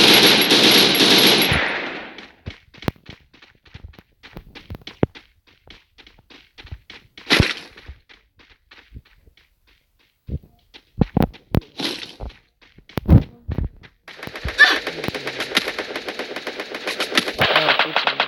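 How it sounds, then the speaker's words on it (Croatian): Gunfire in the video game Free Fire: bursts of rapid automatic fire and scattered single sharp shots with quiet gaps between, some loud and close, plus a few louder blasts near the start and end. "Evo, pucam nekud."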